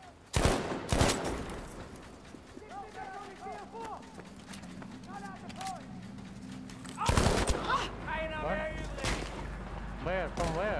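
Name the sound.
gunfire in video game Battlefield V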